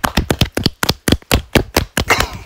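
Two podcast hosts clap their own hands up close, about a dozen sharp, loud claps in a quick, slightly uneven rhythm with no voices over them.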